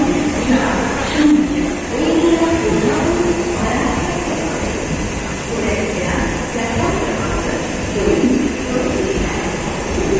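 A passenger train pulls out of a station near Pune, giving a continuous rolling rumble with faint rhythmic clatter heard from inside the carriage, with a little background voice.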